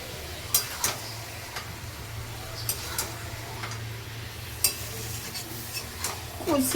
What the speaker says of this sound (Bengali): এবার খালি কষাতে থাকবো।